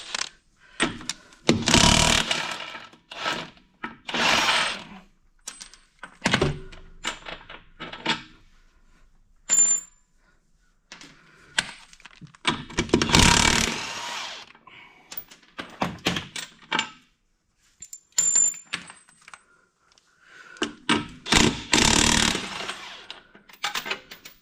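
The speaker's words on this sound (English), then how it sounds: "take these all these bolts loose" A power tool loosening wheel bolts on a John Deere 5067E 4WD tractor, heard as repeated loud bursts of whirring and rattling hammering separated by quiet pauses, with metallic clunks in between and no talking.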